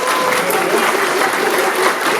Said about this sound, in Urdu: بہت ساری تالیاں ہو جائیں ہمارے اعزاز کے لیے